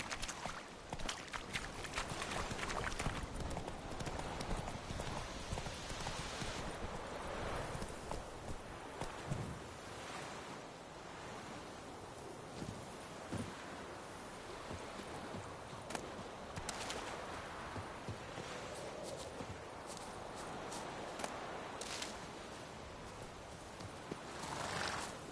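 Roach, a horse in The Witcher 3, gallops with steady, rapid clip-clop hoofbeats and occasional neighs, close and continuous over faint outdoor ambience, with no talking.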